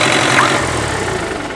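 A loud, close New Holland 640 tractor engine (2018) idles with a low, steady rumble and a slightly knocking mechanical pulse throughout.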